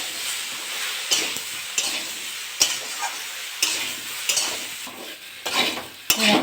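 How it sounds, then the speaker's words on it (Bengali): Eggplant sizzles and fries in a pan while a utensil stirs it, with a soft steady crackle broken by several sharp scraping strokes against the pan at irregular intervals, close by and with no talk. "বেগুনটা একটু নেড়ে চেড়ে ভেজে নিয়েছি"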